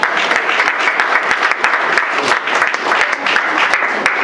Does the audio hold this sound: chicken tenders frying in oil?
no